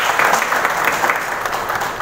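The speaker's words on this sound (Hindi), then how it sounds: "हम इनका जोरदार तालियों से स्वागत करें।" An audience at a cancer awareness event held by Hina Hospital bursts into loud, sustained applause to welcome Firoz Alam Ansari, many hands clapping together at close range.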